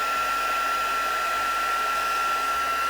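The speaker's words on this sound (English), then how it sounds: "it's a bit tempting just to sit here and warm my own hands with the heat gun" Heat gun blowing on gold embossing powder during a craft project, a steady, close, continuous whirring hiss with a high whine, and no talking.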